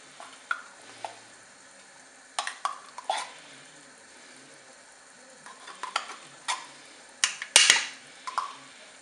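Tomato paste being stirred into a roast inside a Cookeo multicooker pot; a spoon scrapes and clacks against the pot in irregular, close bursts with soft wet sizzling between, growing busier toward the end, without speech.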